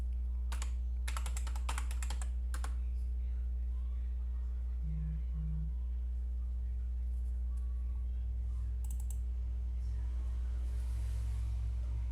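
Admin username and password being typed on a computer keyboard, with bursts of quick keystrokes at the start and again later, over a loud constant low hum of machine background noise.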